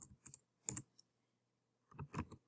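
Mouse clicks in a code editor on a computer, a few quick clicks in short clusters with silent gaps between, alone and fairly quiet.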